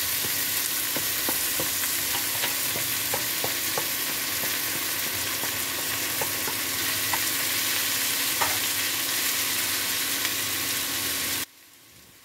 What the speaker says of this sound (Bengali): আমি এক এক করে সব সবজিগুলো তেলের মধ্যে দিয়ে দিলাম